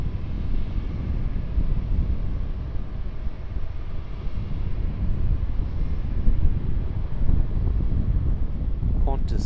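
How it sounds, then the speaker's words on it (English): Qantas Boeing 737 departing Sydney Airport at golden hour, a steady broadband jet roar with wind buffeting the microphone, loud and sustained throughout without a clear rise or fade. "Qantas Boeing 737 departure."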